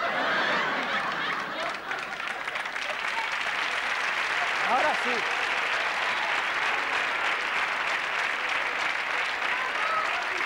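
Sustained audience applause fills the whole stretch, a dense, even wash of clapping from a large crowd at a comic show, with a brief voice rising faintly through it midway.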